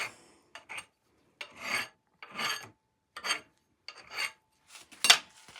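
A hand file rasps against metal on a Honda CT70, several separate back-and-forth strokes with short gaps between them, close and clear, with no talking.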